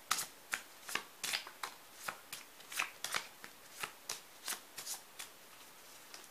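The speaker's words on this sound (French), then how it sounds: "Je vais piocher dans les cartes de manga aussi." Tarot-style cards are shuffled and drawn from a deck of manga cards: a steady series of about sixteen crisp, close slaps and riffles, roughly two or three per second, with no voices.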